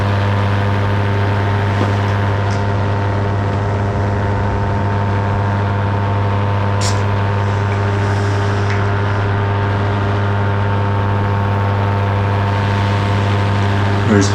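Paramotor engine holding a steady drone at roughly three-quarter throttle while flying toward Black Tusk near Whistler, loud and close with a constant low hum and little variation.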